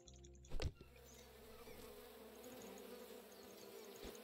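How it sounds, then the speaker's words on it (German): Insects buzz around bee nests in a video game, a faint continuous droning hum with a brief louder thump near the start, no speech. "Bei den Bienennesten."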